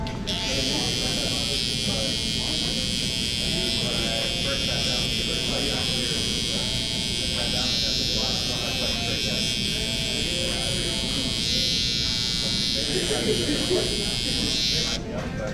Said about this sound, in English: I take my shaver and I go right underneath